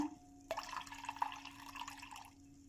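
Water is poured into a cooking vessel, giving a faint steady splashing pour with a few drips, close by and quiet, without voices.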